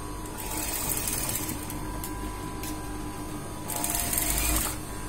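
A sewing machine stitches piping onto a boat-neck blouse, a close, steady rapid needle chatter running continuously and swelling louder near the end, heard alone.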